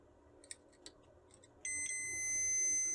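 A multimeter's continuity beep sounds while probing a fuse on a Trojan treadmill control board, a steady high electronic tone that starts partway through and holds to the end, following a few faint clicks from the probes.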